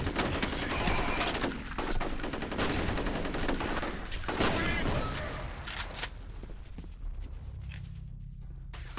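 Dense rapid gunfire in the video game F.E.A.R. bursts loudly for several seconds, then thins out and fades into quieter scattered noise.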